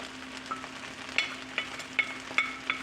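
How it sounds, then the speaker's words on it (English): Shrimp added on top of Nigerian fried rice cooking in a pan, a soft sizzle punctuated by several rhythmic clinks and taps of a utensil against the pan, no voices. "now I'm just going to add in the shrimp on top of it"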